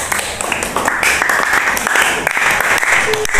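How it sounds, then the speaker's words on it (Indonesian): A classroom or school audience applauds throughout, a dense and steady clatter of many hands clapping at close range, with a few voices mixed in. "Ya, tepuk tangan yang meriah."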